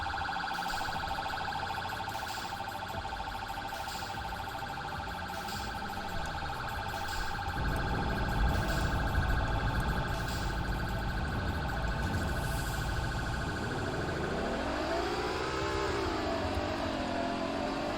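A police car siren wails loudly behind a driver in a 2020 BMW M760Li, a steady electronic tone that shifts partway into a sweeping yelp pattern over low road noise.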